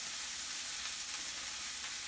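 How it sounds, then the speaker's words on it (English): Onions sauteing in a little olive oil in a large pan, a steady close sizzle that holds constant with no talk. "Saute the onions probably for about 5 minutes."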